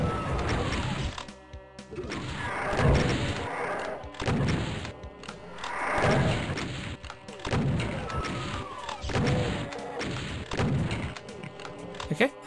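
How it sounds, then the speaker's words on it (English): Shotgun blasts and rocket explosions sound in the Doom level Plutonia Map 6, a string of loud booming impacts and crashes every second or two over continuous game noise, with a voice talking throughout. "I think the shotgun's probably the most reliable way of hitting them. The rockets seem to be hitting the staircase."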